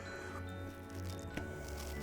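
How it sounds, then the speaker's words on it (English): Cream is poured slowly onto a tres leches cake, giving a soft, wet, squishing trickle with a faint drip, heard close and quiet over a steady background hum. "Time to add the cream."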